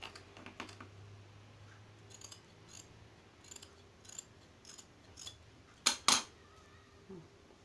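Scissors snip through bochamo fabric while a vest is being cut out, soft close crisp snips in short irregular bursts, ending with two louder sharp cuts, set against a quiet room hum.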